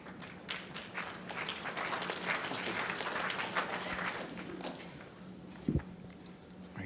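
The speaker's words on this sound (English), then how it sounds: "A little clap for a ball 2 or 3 feet through" Polite applause from the crowd at the World Indoor Bowls Championship, a dense patter of clapping swelling and fading over several seconds indoors, followed by a few thumps and quieter ambience.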